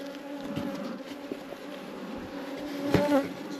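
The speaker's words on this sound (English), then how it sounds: "There's a few guard bees kicking about us that really aren't happy with us" Honeybees buzz steadily around beehives during varroa treatment, a continuous insect drone with a few louder passes close by, including one near pass toward the end.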